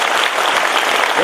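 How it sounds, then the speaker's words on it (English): Audience at an English-language spiritual talk by Patriji bursts into dense, loud applause for the Tamil language, a brief continuous clapping from a nearby crowd. "You have big clap for Tamil language."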